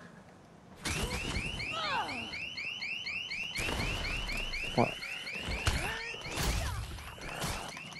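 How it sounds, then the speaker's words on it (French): A car alarm sounding loudly and close, its rapid repeating warble cycling on without pause, with brief knocks and clatter mixed in and a single short spoken word. "l'alarme, j'arrive pas à la désactiver"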